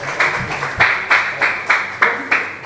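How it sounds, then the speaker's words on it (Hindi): An audience claps at a community fair, roughly six loud, evenly spaced bursts of applause rising and fading in quick succession. "भरपूर तालियां अली मोहसिन साहब के लिए।"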